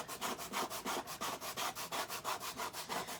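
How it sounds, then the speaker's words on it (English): Dried paste scraped up with a paste scraping tool: steady, rhythmic rasping strokes, about six per second, close and continuous with no talking. "So here's our dried paste, and I am just scraping that up."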